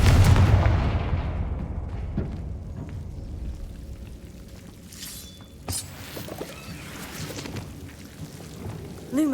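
Confringo blasting spell in the video game Hogwarts Legacy: a heavy explosive burst opens, then trails into a long rumbling fade, followed by scattered softer magical whooshes and chimes further on, with no speech.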